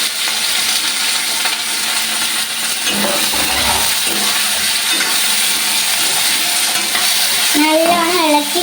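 Tomatoes and chilies are stirred into browned ingredients frying in a pan, a loud continuous sizzle with spoon scrapes and occasional clinks against the metal.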